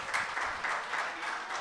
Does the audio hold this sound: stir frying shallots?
no